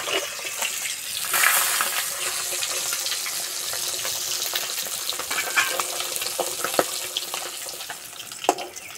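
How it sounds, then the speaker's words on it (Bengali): Pabda fish frying in oil in a pan, a continuous hissing sizzle with scattered spits and pops and a couple of sharp clicks from a utensil, close and moderately loud, no voices. "সব মাছ ভেজে নিয়েছি।"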